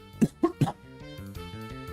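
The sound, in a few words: cough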